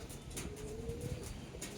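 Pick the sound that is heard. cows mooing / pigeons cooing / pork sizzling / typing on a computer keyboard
pigeons cooing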